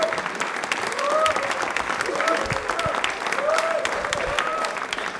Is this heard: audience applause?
yes